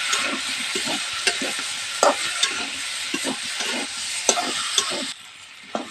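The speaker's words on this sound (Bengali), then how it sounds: "ভালো করে কষিয়ে নেবো কিছুক্ষণ ধরে।" Boiled taro is stir-fried with spices in a pan, giving a steady close sizzle broken by spatula scrapes and knocks against the metal, with no talking.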